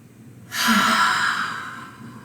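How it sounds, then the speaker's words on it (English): A single long breathy yawn, or a sigh, during a morning stretch, rising suddenly and then fading slowly over about two seconds, close and fairly loud. "make your neighbor or yourself yawn"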